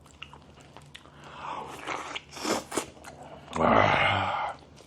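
Someone eats duck soup made with water, duck, salt and noodles, with close biting and wet chewing that builds to a louder slurping crunch near the end.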